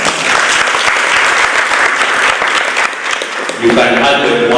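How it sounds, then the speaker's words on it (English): A room of participants at a peer education workshop gives the presenter a loud, dense round of applause. The clapping carries steadily for several seconds, then thins out as a voice starts speaking near the end. "One is a round of applause for the presenter."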